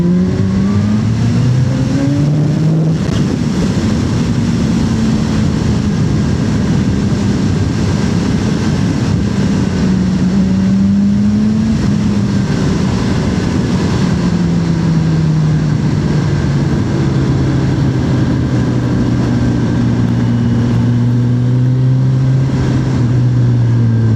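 A Kawasaki H2 SX motorcycle accelerates hard through the gears, its engine pitch climbing then dropping at each upshift in repeated sweeps, loud and close with steady wind and road rush underneath.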